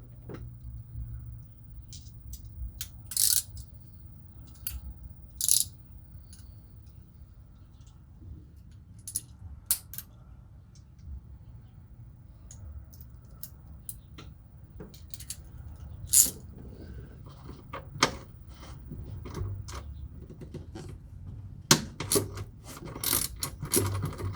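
A cheap three-in-one ratchet wrench from China turns a 10 mm bolt, giving faint bursts of rapid pawl clicking with quiet pauses, followed by louder clatters and a few sharp clicks toward the end.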